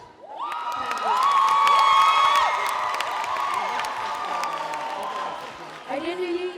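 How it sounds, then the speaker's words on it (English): An audience at a student debate showcase in Durban, South Africa breaks into loud cheering, whoops and applause, swelling quickly and holding for several seconds before tapering off. "I didn't really expect that cheer"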